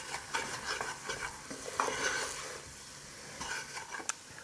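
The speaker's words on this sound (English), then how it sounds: "So the roux has been cooking," Dark roux for goose gumbo stirred in a pot, a quiet scraping of a spoon against the pot bottom in uneven strokes with a faint sizzle, close and without talk.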